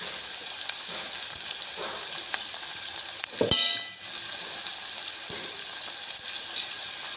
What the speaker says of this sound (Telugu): బ్రౌన్ కలర్ వచ్చే వరకు ఉల్లిపాయలు వేయించుకోవాలి ఫ్రై చేసుకోవాలి